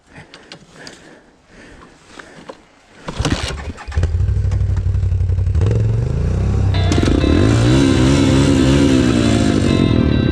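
Dirt bike engine in snow, a motorcycle with no tire treads, starting up after a few seconds of clatter and rumble, then holding a loud, steady close drone with revving.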